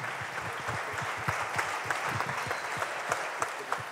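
An audience at a regional Ligurian artists' contest applauds a singer-songwriter, steady crowd clapping with a rhythmic thump of low beats running under it, no voices heard.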